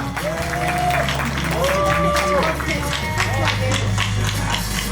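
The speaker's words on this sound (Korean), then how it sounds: "박수로 환영해 주십시오" Audience applause welcoming a team representative onto the stage at a legendary StarCraft match event, steady clapping and crowd noise running under a talking voice throughout.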